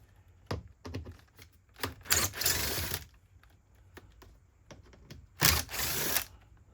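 Two metal T20 screws come out of a 2024 Acura ZDX front door panel, heard as short bursts of a driver whirring with small clicks and taps in between, close and fairly quiet.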